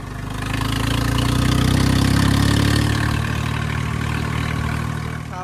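A tractor engine running at a steady idle after starting, a loud continuous low rumble that swells over the first second and holds throughout with no talk.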